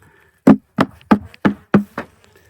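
Six evenly spaced knocks on the wooden front of a beehive on a warm winter day, sharp and close, with a faint insect buzz between the raps.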